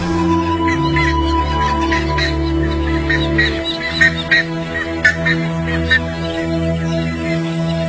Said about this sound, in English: anaconda in the open is cause for a lot of squawking and screeching from the bird population